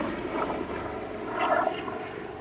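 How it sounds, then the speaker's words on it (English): A helicopter flying overhead, a steady, rumbling rotor drone that swells slightly midway, heard alone without speech. "So I guess I'll talk while the helicopter's flying over."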